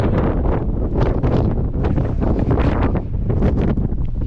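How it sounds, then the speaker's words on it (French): Strong mountain wind at the Col de la Croix du Bonhomme on the Tour du Mont Blanc, above 2000 m, buffets the microphone in loud, continuous gusts with rumbling, surging blasts and no voices. "Il y a énormément de vent"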